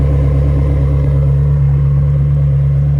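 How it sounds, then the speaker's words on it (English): A 2003 Ferrari 360 Spyder's exhaust rumbles at a steady idle, a loud, deep, even drone held close for a few seconds with no speech. "Listen to that exhaust."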